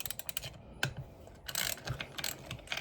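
A ratchet clicks rapidly while loosening a bolt on a GSXR 600 engine case, with short bursts of pawl ticking and a metallic snap, close and dry with no talking.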